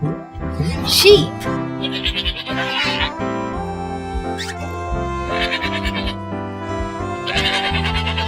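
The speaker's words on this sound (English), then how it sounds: "Sheep." A sheep bleats several times over a cheerful children's song, the short wavering calls repeating at intervals above the music.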